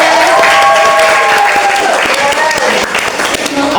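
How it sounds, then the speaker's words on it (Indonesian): A live audience claps loudly and steadily at a talk show about a young dalang, the applause dense and continuous, with voices and cheers mixed into the clapping. "Tepuk tangan untuk kita semuanya"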